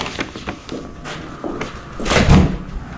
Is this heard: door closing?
yes